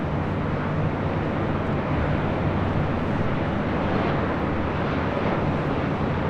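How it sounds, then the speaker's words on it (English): United Airlines Boeing 737 MAX 8 arriving from Cleveland, a loud, steady broadband jet roar with a low rumble that holds throughout, with no voices. "This is United Airlines 679 coming in from Cleveland on a MAX 8"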